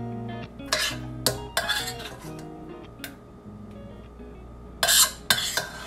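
A spoon scrapes and clinks against a pan while scooping creamy mushroom gravy for pork chops, with several sharp metallic knocks spread over a low kitchen background.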